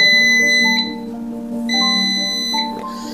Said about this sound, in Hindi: आपको बीप आ गई तो क्लियर हो गया कि आपका ये बंद हो गया है